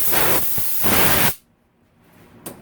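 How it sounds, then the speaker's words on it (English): Two hissing bursts from an aerosol spray can onto a thread on a motorcycle rear shock, the second longer, then quiet with a faint click. "Actually, let me spray this thread."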